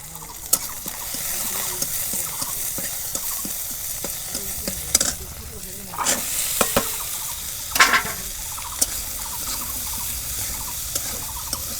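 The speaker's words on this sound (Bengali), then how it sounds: "ইফতারের জন্য বুট ভাইজা নিব।" Chickpeas (boot) frying for iftar, with a steady close sizzle and repeated stirring scrapes and taps in a pan, occasional louder clacks, no talking.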